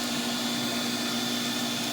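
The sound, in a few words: vacuum seeder running in greenhouse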